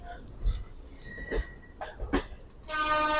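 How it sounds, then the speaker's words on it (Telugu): On the Ratnachal Superfast Express between Visakhapatnam and Vijayawada, the train snakes through curves with scattered clanks and knocks, a brief squeal or horn-like tone, and then a sustained high whine as it runs on. "పాములా మెలకు తిరుగుతుంది మన ట్రైన్"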